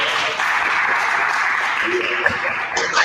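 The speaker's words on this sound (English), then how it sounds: "give yourself a round of applause for being here" Audience applause at a community listening session in Oakland, a steady broadband patter of clapping from a seated crowd that holds for about three seconds, with some voices mixed in underneath.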